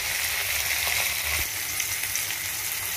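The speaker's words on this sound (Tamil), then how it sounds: "இப்போ தக்காளி போடுவோம். தக்காளி நல்லா நல்லா வதங்கணும்." Tomatoes for a fish curry sizzle and sauté steadily in a hot pan, a continuous close frying hiss with a faint stir or clink partway through and no talk.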